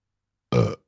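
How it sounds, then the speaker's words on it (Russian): A single short, throaty burp sounds close and fairly loud after silence, lasting about a quarter second. "Кто рыгнул?"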